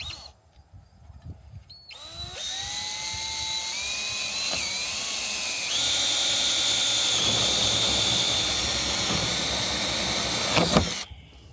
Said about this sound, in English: we're going to go ahead and drill a hole in this